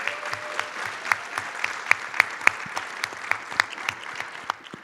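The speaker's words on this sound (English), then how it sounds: "Guys, can I get a round of applause for these amazing people already to start us off?" Panel attendees at a charity-streaming convention applaud the panelists, a full, even wash of clapping that carries throughout, with crisp individual claps popping out near the microphone.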